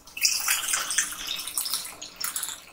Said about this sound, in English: Let's pour into our glass carefully